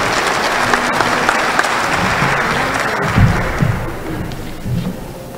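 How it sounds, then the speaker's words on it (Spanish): A forum audience claps steadily for several seconds, full and fairly close, with a few thumps, thinning out toward the end. "Un fuerte aplauso, por favor."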